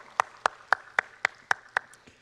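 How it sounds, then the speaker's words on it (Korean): A church congregation applauding the Hosanna choir after a Sunday worship song; the picture shows only about eight sharp, evenly spaced claps close by, like a single pair of hands, fading out at the end. "호사나 찬양대 감사와 격려의 박수를 돌립니다"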